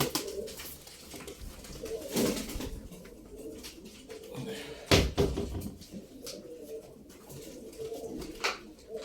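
Pigeons coo softly in a low, rolling rhythm beside someone talking in Turkish, with occasional wooden knocks and clatter nearby; one bird is a smoky-grey male.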